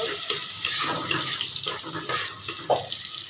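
Onions sizzle in fish-frying oil while being stirred, a continuous nearby hiss of frying with irregular spatula scrapes and bumps.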